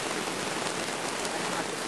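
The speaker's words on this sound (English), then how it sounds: "as the rain becomes torrential" Torrential rain pouring down on a Cambodian forest, a dense, even roar of heavy drops close by with no pauses and no voices.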